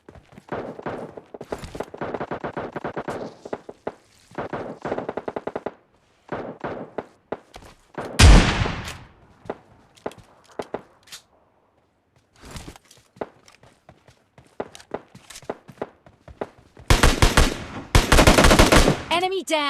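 Gunfire in a PUBG Mobile Lite squad fight: rapid automatic bursts and single sharp shots come in clusters with pauses between, loud and close, along with footsteps.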